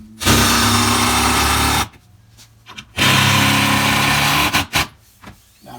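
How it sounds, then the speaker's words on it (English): A power drill bores holes into a workbench in two loud, close bursts of roughly one and a half seconds each, separated by brief clunks and quiet. "I want to put a couple holes in my workbench to hold it in place."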